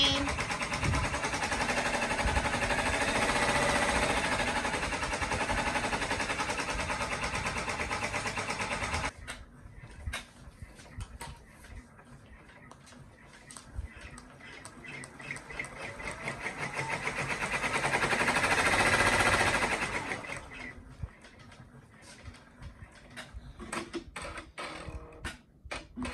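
An embroidery machine stitching a detailed design, a dense mechanical whir that drops to a rapid ticking needle rhythm, then swells again and settles back into the ticking, close and steady with no talking.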